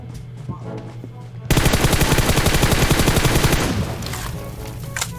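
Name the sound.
gunfire in video game Free Fire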